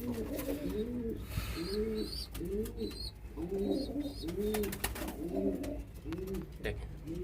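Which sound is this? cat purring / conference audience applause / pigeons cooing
pigeons cooing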